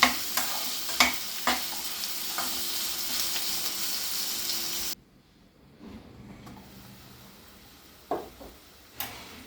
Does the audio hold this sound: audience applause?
no